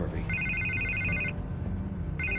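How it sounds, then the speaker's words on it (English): A telephone rings in the Batman Telltale video game, two bursts of a bright electronic trill separated by a short pause, heard over a low background drone. "I can't get the phone to stop ringing."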